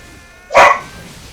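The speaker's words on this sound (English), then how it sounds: "Sorry, my dog." A pet beagle gives a single loud, close bark, short and sharp against a quiet background.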